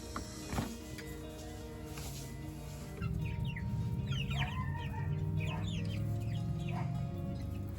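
Chickens cluck near a large pile of grass clippings on a homestead while waiting to be fed. Repeated short clucks and calls come from close by, getting busier partway through over a steady outdoor background.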